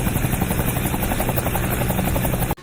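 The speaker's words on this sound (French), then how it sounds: "c'est un hélicoptère électrique" An electric radio-controlled model of a Bell 222 helicopter, about one-third scale, chops rapidly with a steady, loud buzzing whine that cuts off abruptly at the end.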